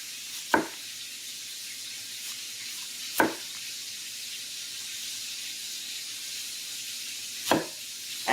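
Onion rings frying in hot oil give a steady soft sizzle and hiss, with a few sharp clinks and taps at intervals over the bubbling.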